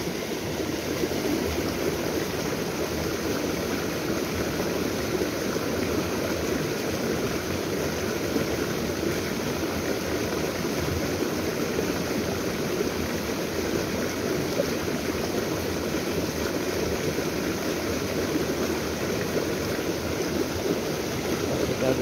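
Fast-flowing stream current at a wader fishing spot, a steady broadband rush of water running continuously and fairly close throughout, with no clear voices over it.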